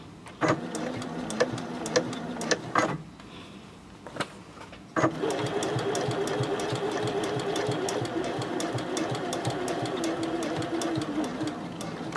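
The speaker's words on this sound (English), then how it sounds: "I'm ready to start sewing my lining and exterior sides together." A sewing machine stitches bag lining and exterior together at 2.6 stitch length, running in short bursts with pauses, then a steady rapid needle rhythm, close and fairly quiet.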